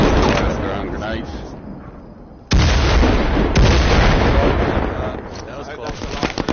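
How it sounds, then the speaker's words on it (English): Grenades go off in the game Firewall Zero Hour: one heavy, sudden blast cuts in mid-clip, followed by a second thump and lingering rumble, with players talking underneath. "Throwing grenades."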